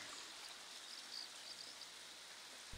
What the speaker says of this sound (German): Spötter meinen, es ist Luxemburgs höchster Wasserfall.